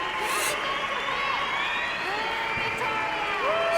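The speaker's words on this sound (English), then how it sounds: "Some cheering and some booing" A crowd cheers and boos at an award announcement in the game Life is Strange, a mix of whoops and jeers with rising calls, heard under and between voices talking.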